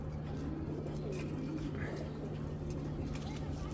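Cooing comes from a flock of female racing pigeons kept by a breeder, soft and low under a constant electrical hum and background noise.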